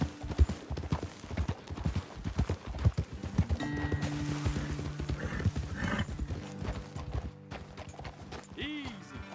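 Horses in Red Dead Redemption 2 trot with busy, uneven clip-clop hoofbeats on hard ground, joined by a loud whinny midway and a shorter neigh near the end, all close up and without talk.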